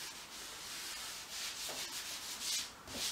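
Paint is rubbed onto a canvas to lay a warm ground for an abstract painting, a soft uneven scrubbing in repeated strokes, close and fairly quiet.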